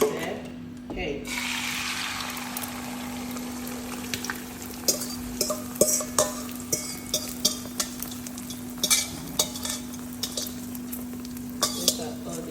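Eggs dropped into oil in a pot for scrambled eggs, bursting into a near, crackling sizzle with repeated clinks and scrapes of a utensil against the metal; a voice talks briefly at times.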